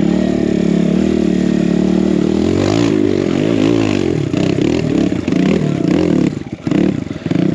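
A Kawasaki KLX170RF trials dirt bike, BBR-built, rides a single-track enduro trail, its engine loud and close, droning steadily before revving and clattering unevenly as the throttle changes.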